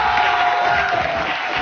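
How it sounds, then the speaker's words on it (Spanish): An audience at a tropical music show roars with cheering and shouts, a dense continuous wash of crowd noise at steady loudness. "¡Un aplauso!"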